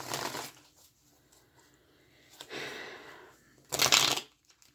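A Santa Muerte tarot deck is shuffled by hand in three separate bursts of riffling cards, near and fairly clear, with quiet gaps between them and no talk.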